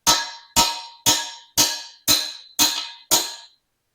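Seven sharp metallic strikes of a hammer and chisel knocking in a freeze plug on a Datsun L18 engine block ring out at an even pace, each clang decaying quickly, with no talk.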